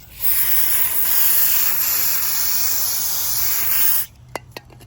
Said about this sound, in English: I have some breaker fluid cleaner, and we're going to spray the track set.